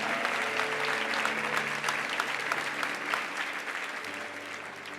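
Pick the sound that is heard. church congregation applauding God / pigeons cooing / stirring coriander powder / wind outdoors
church congregation applauding God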